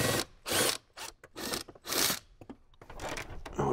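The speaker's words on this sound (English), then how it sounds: "These are just two 10 millimeter bolts that come off of there." Two 10 mm bolts being loosened from a panel on a 2018–2023 Jeep Wrangler JL, with repeated ratcheting and mechanical turning bursts separated by short pauses, close and clear, with no speech.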